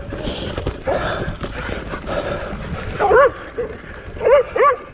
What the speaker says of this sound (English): Sorry about the barking, folks.